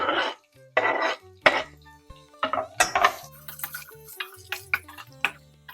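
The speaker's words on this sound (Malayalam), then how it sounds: "ഇനി നമുക്ക് സവാള ഇട്ട് കൊടുക്കാം, പച്ചമുളക്, കറിവേപ്പില" Onion, green chili and curry leaves go into a pan with ginger while making masala dosa filling, giving a series of close clinks and scrapes of utensil on pan, several sharp knocks spaced through the clip with light sizzle beneath.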